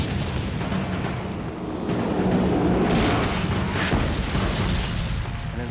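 A 70-ton tank fires its stabilized main gun while on the move, giving heavy, booming blasts over a sustained, rumbling roar that stays loud throughout.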